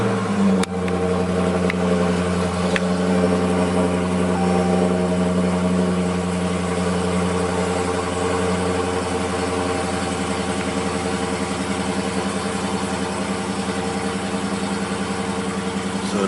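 A repaired car engine idles steadily and loudly for the whole stretch, a constant low hum with even tonal bands and no talking over it.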